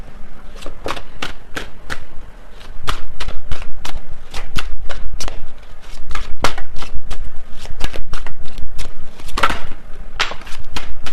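A deck of tarot cards is shuffled over and over, producing rapid, sharp, close riffling clicks in steady bursts with short pauses between shuffles.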